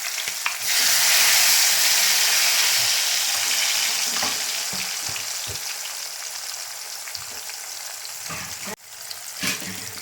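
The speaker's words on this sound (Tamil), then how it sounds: "நல்லா வேகட்டும், எண்ணெயிலேயே வேகட்டும்" Thin-sliced bitter gourd chips deep frying in hot oil, giving a strong, continuous bubbling sizzle that stays close and loud throughout, with a few brief scrapes and knocks.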